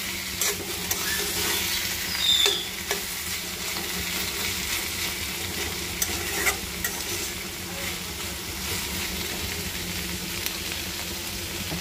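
Leafy greens fry in a pan, a soft continuous sizzle with occasional stirring scrapes and small taps, fairly quiet and close, with no speech over it.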